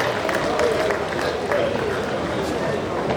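Audience applause at the investiture of Town Planner Akindele Oladele as chairman of the NITP Lagos Branch, a steady wash of clapping and crowd noise lasting throughout with a busy murmur of voices underneath.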